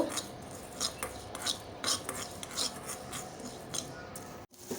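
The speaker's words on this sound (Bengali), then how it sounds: "মশলা হিসেবে ব্যবহার করার জন্য জিরা ভেজে নেব" Cumin seeds fry in a pan for a vegetarian potato and bitter gourd curry, a steady close-up crackle and sizzle broken by repeated scraping strokes of a spatula against the pan, with no voices.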